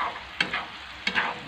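Pork for a braised dish is tossed in a sizzling pan, two quick spatula strokes scraping through the meat over a continuous close fry.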